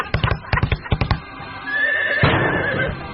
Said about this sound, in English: do the horse noise, too?